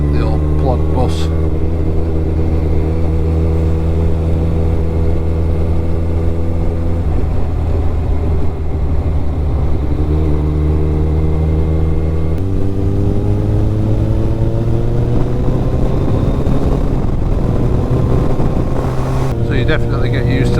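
Kawasaki ZZR1400 (ZX14R) engine under way on the road, a loud steady drone that climbs in pitch through the gears with shifts and wind rush, close and continuous.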